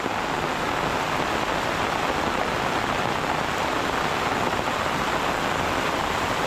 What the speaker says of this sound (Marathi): पुन्हा एकदा मुसळधार पावसाला सुरुवात आणि आज आहे सत्तावीस तारीख मे महिन्याची आणि पाऊस बघा किती जोरात आहे ते